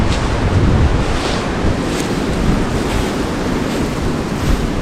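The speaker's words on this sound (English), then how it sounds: "the wind is really kicking up" Strong wind roars steadily across an outdoor campsite where a tarp shelter is rigged with a trekking pole and guy lines to trees, a loud, continuous broadband rush with gusts swelling and easing throughout, no voices.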